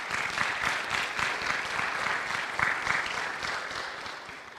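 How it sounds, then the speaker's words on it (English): An audience at a church workshop gives a steady round of applause, many hands clapping in a dense, even patter that carries on without voices and tapers slightly at the end. "thank them with applause for their being here today"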